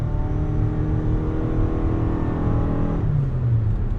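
A 2019 Toyota RAV4 Hybrid in XSE trim pulls away under throttle, a steady engine and motor whir heard from inside the cabin, holding a smooth, even drone that rises slightly near the end, with no talking.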